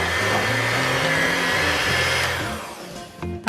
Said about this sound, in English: I have 3 sticks of butter in my bowl that I'm going to beat until these 3 sticks are almost white